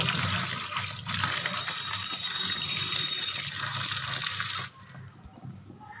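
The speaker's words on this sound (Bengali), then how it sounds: "এই যে শাকটাকে ধুয়ে নিচ্ছি আমি, আজকে পালং শাক করবো অনেকদিন পর। ভালো করে ধুয়ে নেবো শাকটাকে" Spinach being washed under a running kitchen tap, a loud, steady gush of water splashing into the sink that cuts off abruptly near the end, leaving a quieter background.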